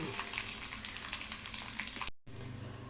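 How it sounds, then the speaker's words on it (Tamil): Dried red chilies and fenugreek seeds frying in hot oil alongside fennel and cumin, giving a steady close sizzle that cuts out briefly near the end before resuming. "வெந்தயம், இப்போ காஞ்ச மிளகாய் போட்டுக்கிறேன்."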